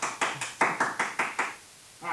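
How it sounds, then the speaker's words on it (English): Seven sharp bursts of hand clapping in steady rhythm from a small group in a classroom, fairly close, then a brief pause before a faint new sound begins. "He was applauding you."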